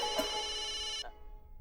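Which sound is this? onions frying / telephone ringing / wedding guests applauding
telephone ringing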